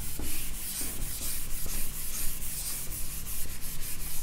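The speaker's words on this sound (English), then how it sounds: "I'm going to rub this and rewrite this." A board being erased during a physics lecture, a steady loud rubbing swish with rapid back-and-forth strokes, continuous and close, with no voices.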